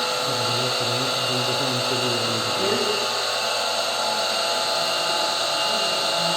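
A squirrel cage induction motor runs on a 48-volt supply at about 1400 RPM, giving a steady electrical hum and whine at close range, with a brief shift in tone partway through.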